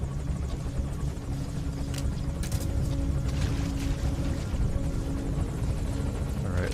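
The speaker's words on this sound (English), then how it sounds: "looks like the helicopter has moved into a holding pattern here" Helicopter in Metal Gear Solid V, rotor thrumming steadily and loudly overhead in a holding pattern, with a few brief sharp bursts over the constant wash.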